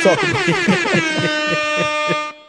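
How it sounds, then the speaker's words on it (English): A loud, blaring air horn sounds a quick string of rhythmic blasts that merge into one sustained tone, then cut off abruptly. "give my man an air horn for that"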